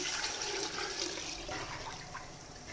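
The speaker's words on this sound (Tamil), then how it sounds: "நான் வந்துட்டு தண்ணி இதில் ஆட் பண்ணிக்கிறேன்." Water poured into a pot of mutton cooked down with biryani masala, a steady continuous rushing pour close by that holds for the whole stretch with no talk over it.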